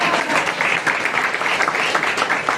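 A church congregation claps together during a Sunday service, a dense, steady wash of many hands sustained throughout at even loudness, with no talk over it.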